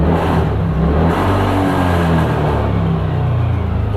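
Close up, a TVS Ntorq Race XP scooter engine with a reported abnormal noise runs and revs, a loud, low droning hum that rises and falls in pitch, alone with no talk.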